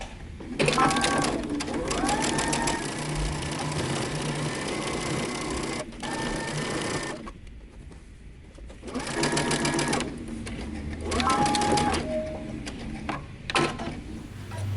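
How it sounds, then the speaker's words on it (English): A sewing machine stitches a 5/8-inch seam on a top in long, steady runs broken by brief stops, close and loud with a clattering mechanical rhythm, and a voice is heard talking over parts of it. "we're going to sew using 5/8 of an inch seam allowance"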